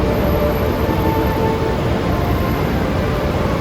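Steady low rumble and roar of a Manila MRT metro train in motion, heard from inside, with a faint high whine above the constant noise.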